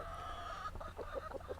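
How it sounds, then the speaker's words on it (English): Backyard chickens and a rooster on a tropical permaculture homestead cluck softly in a quick run of short calls, fairly close but quiet, with a low steady background hum and no talking. "Checking in the chickens here."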